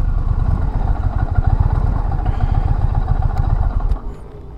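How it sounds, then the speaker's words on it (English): A 2023 Indian Pursuit Dark Horse motorcycle engine brakes while downshifting, its close, rumbling exhaust pulsing steadily before easing off near the end. "Downshifting is very smooth. Engine braking is nice."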